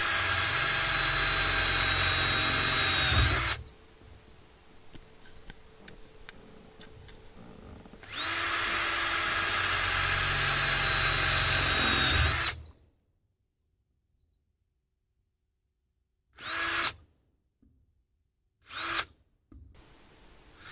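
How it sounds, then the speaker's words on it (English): A power drill whirs loudly in two long bursts, drilling holes in a composite foam sandwich panel, then several short trigger pulls after a stretch of quiet. "it's very, very simple to drill the holes"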